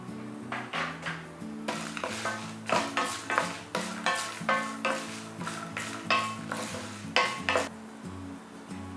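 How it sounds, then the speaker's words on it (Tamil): Cashew nuts and dried red chillies roast and rattle in a pan, close up, with a busy run of scraping stirs and clinks of the spoon against metal over a steady sizzle. "கேஷ்யூ நட், இதை வந்து வறுத்துக்கணும். இதோட காஞ்ச மிளகாய் சேர்த்துக்கிறேன்."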